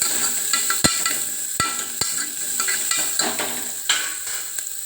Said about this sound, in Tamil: நல்லா வதக்கிக்கலாம் காரம்லாம் கரெக்டாக இருக்குது